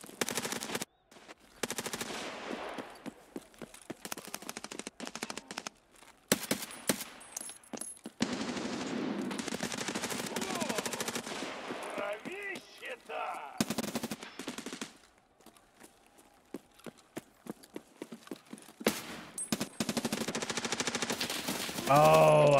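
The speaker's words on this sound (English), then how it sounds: "I thought he was shooting at the other person, bro." Rapid machine-gun bursts in Escape From Tarkov Arena, loud close volleys broken by short silent gaps, then further clattering strings of shots.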